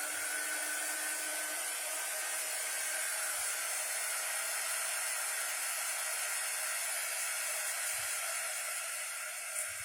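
Steady hair dryer blowing on a dog, a continuous broadband whoosh held close and loud for the whole stretch, with a few faint low thumps and no talk.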